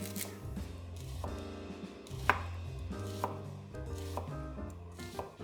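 A knife thinly slices scallions and onion for a Hanoi-style pho garnish, making quick, fairly regular chopping taps against the board, close up with no talk.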